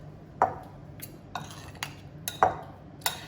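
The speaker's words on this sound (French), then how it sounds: "Vas-y, avec 2 cuillères, bien mélanger." Two spoons clink and scrape against a bowl while a carrot salad with caraway is tossed, making sparse, close metallic taps at an uneven pace.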